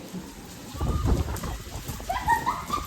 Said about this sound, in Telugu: ఇట్లా అరే ఇంత వర్షం